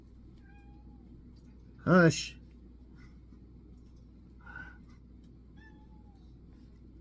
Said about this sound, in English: She's going to start her meow and she wants me to go OUT.